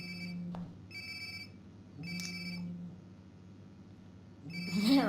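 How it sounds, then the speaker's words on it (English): Phone ringing in the next room in the video game Life is Strange: Before the Storm, three repeated electronic ring bursts about one second apart, muffled and steady, followed by a brief burst of different game sound at the end. "Ça, il sonne dans la pièce d'à côté. Sounds like my phone is definitely nearby."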